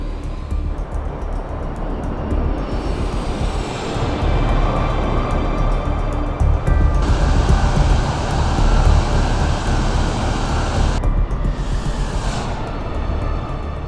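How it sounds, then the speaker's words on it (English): Airliner engines roaring under heavy power as the aircraft climbs rapidly during a go-around with flaps at 15; a loud, sustained broadband rumble that swells partway through and holds steady, with no talking. "just before reaching the ground, the aircraft begins climbing rapidly"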